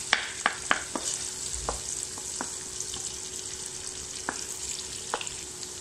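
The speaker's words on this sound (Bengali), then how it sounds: "শুকনা মরিচ দিয়ে পেঁয়াজগুলো ভাজবো।" Onions with dried red chilies and garlic frying in oil, a steady close sizzle with scattered stirring clicks and scrapes of a utensil against the pan, no talking.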